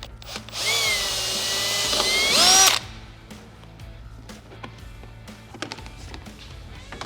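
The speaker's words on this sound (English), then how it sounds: "we're just going to drill our hole directly through the flare and the plastic" A power drill whines loudly for about two seconds, pitch rising as it bites through a plastic fender flare on a Can-Am Maverick X3, then stops, leaving faint clicks and handling noise.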